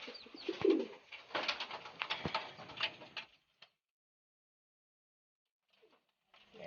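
Pigeons in a loft coo in soft, throaty bursts close by for a few seconds, mixed with faint rustles and a brief thump, then fall almost silent before a little more quiet movement.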